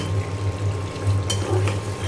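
A spoon stirs ground roasted cumin through a sizzling pan, a low steady fry with light scraping and a brief clink partway through.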